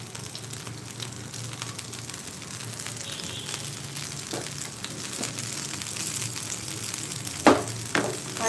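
Brown rice adai dosa fries in a generous pool of oil, giving a loud, continuous crackling sizzle with a couple of sharper pops near the end; no talking.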